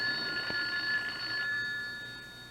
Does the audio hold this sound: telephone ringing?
yes